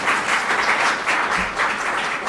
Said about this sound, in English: how about a hand of applause for all?